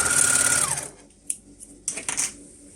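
An overlocker runs a seam through cotton fabric, with a steady high whirring drone that winds down after about a second, followed by a few light clicks and fabric handling noises.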